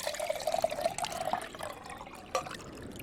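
Water pours softly into a cup at close range in a quiet ASMR roleplay setting, a faint trickle with a light ringing fill tone, then a few small drips and splashes.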